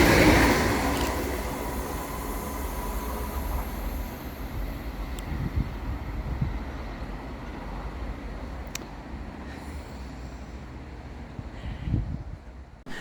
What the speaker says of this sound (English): Next up to fly through the station is 380-102 and 380-012, working 1K19 for Scotrail from Glasgow Central through to Ayr.